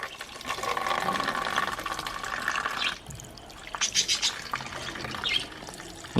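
Harvested moina being washed with water, a steady splashing and running flow with a brief pause, then renewed trickling and sloshing close by.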